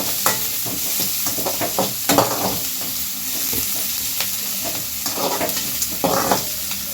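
Green chillies frying in hot oil in a pan while making jeera rice, a steady close sizzle with occasional scraping stirs and spatters, no talking.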